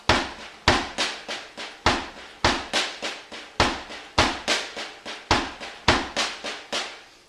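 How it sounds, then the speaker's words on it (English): A drum kit plays single-stroke snare triplets with the bass drum landing on beats one and three, giving a steady stream of sharp, close, evenly spaced hits with regular heavier accents. "what we're going to do is put our bass drum underneath the right hand on beats 1 and beats 3"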